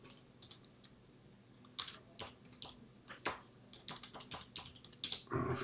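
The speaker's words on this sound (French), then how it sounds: "Je tape mon compte." Someone types a username on a computer keyboard: scattered, close key clicks come in irregular bursts, sparse at first then quicker, with a louder cluster of presses at the end.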